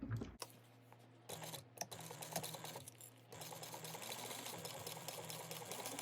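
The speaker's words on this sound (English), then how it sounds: "we're going to sew this at a 1/4 inch seam allowance" A sewing machine stitches a quarter inch seam on a bag, a faint rapid mechanical patter that starts and stops a few times before running steadily, with low hum beneath.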